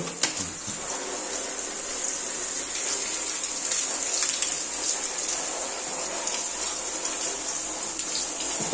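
Tap water gushes steadily over an air conditioner filter being rinsed, a continuous bright hiss that stays even and fairly close throughout, with no voices.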